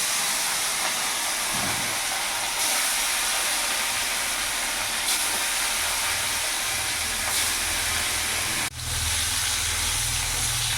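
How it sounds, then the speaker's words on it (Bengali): Pieces of rohu fish frying in hot oil on a medium gas flame, producing a loud, continuous broadband hiss and sizzle for the whole stretch, with a brief dip near the end. "তেল গরম হয়েছে, এবার এক এক করে মাছ আমি ছেড়ে দিলাম।"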